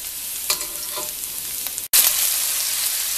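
Garlic and black bean sauce stir-fries in a wok for a clams dish, sizzling loudly and close. After a brief silent break the hiss returns brighter and harsher as more goes into the hot pan.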